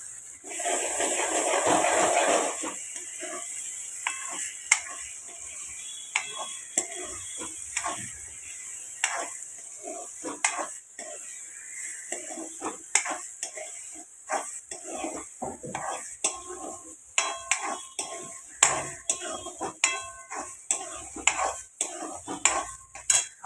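Chopped tomato with ginger and garlic frying in a pan for a paneer curry, a steady soft sizzle under repeated sharp scrapes and clinks of a spoon stirring against the metal, with no talking.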